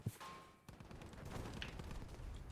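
Gunfire in the shooter game Battlefield V: a sharp shot at the start, then a dense crackle of distant weapon fire and battle noise continuing steadily throughout, fairly faint, with no clear voices.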